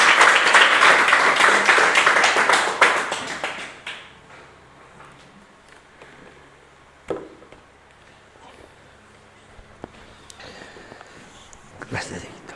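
Congregation applause at an evangelical church service, a burst of dense clapping lasting about three seconds that fades into quiet room noise with scattered knocks and movement.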